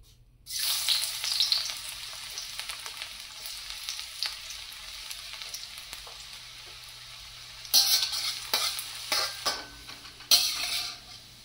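Chopped garlic hits hot mustard oil with a sudden loud sizzle that settles into a steady frying hiss, broken by a few spatula scrapes and clinks against the pan near the end.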